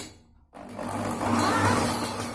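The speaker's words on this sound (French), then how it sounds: "Et on va brancher une perceuse." An electric drill spins up to crank a 1997 Subaru lawnmower engine on a Snapper mower, a sudden start after a brief quiet, then a close, steady whirring and grinding drone.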